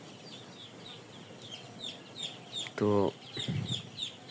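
Four-day-old Sonali chicks on a poultry farm, with soft repeated cheeping and clucking close by, while someone speaks briefly over them.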